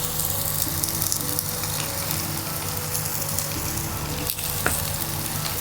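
Ponnanganni greens and shallots sautéing in ghee in a pan, giving a steady, dense sizzle that runs unbroken throughout, close and fairly loud, with no one speaking.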